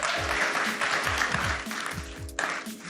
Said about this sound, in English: So just a round of applause for them making the time.